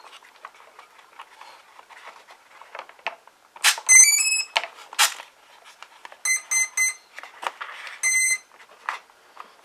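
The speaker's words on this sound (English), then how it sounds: "Nice to hear all 4 of those ESCs fire up." Four electronic speed controllers on a Guillow's B-24 radio-controlled model plane sound several short electronic beep sequences of rising and stepped tones on startup, up close, with quiet clicks and handling noise between them.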